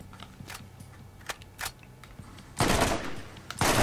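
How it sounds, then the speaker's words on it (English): Burst-fire gunshots from a weapon in the Borderlands video game, with several quick, loud bursts of gunfire ringing out sharply against quieter background game sounds. "Burst fire."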